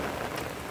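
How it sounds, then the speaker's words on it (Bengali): Monsoon rain and wind in the early summer rains: a steady, dense wash of rainfall with broad windy hiss, continuous and fairly loud throughout, no voices. "শুধুমাত্র বৃষ্টি আর বাতাসের শব্দ"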